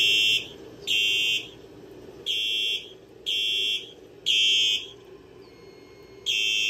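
A Silent Knight SK-2 fire alarm system sounds after a smoke detector is set off by test fog, giving loud, steady pulsed tones, six bursts of roughly half a second each repeating about once a second, with no talking.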